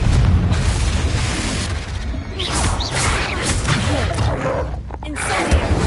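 Spell explosions from the Confringo curse in Hogwarts Legacy boom and crash repeatedly through dense, loud game audio, with whooshing blasts layered over one another and a voice calling out spell names.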